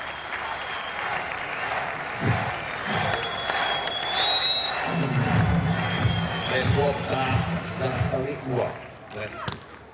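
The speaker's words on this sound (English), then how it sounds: "Come on everybody, clap your hands!" Crowd clapping and cheering at a women's World Tour Major beach volleyball third-place match between Canada and Australia, steady broadband applause with a rise in crowd noise midway and voices mixed in.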